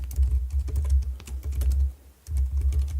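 Fast, steady typing on a computer keyboard, close and clear, with dense key clicks, a brief pause near the end and then more typing, over a low background hum.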